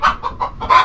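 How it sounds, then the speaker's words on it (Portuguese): A hen clucking after laying an egg at an old country house, a short run of about five loud, close, throaty clucks in quick succession. "Olha aí a galinha botando ovo."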